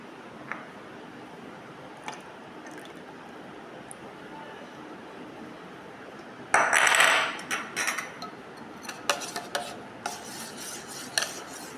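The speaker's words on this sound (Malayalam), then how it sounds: "ഇനി നമുക്ക് ഇതിലേക്ക് ഈ ജ്യൂസ് ആഡ് ചെയ്ത് കൊടുക്കാം" Cucumber juice being stirred into melted soap base in a bowl, starting with faint quiet handling, then a burst of scraping and rasping as the spoon works the mixture, followed by intermittent clinks and rubs.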